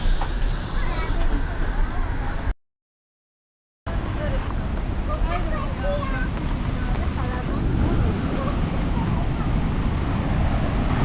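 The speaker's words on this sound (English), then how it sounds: "Nice little pathway down to the waterfall." A waterfall in the Swiss Alps, Europe's largest, sends a continuous broad rush of water along a pathway down toward it, with voices talking over the roar and a brief silent gap partway through.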